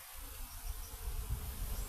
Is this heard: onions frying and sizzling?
no